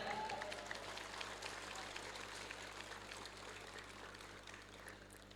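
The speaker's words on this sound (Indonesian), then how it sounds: "Sekali lagi tepuk tangan untuk teman-teman kalian." A crowd of students claps at a high school flag ceremony. The steady, fairly faint applause carries a low hum and tapers off slightly toward the end.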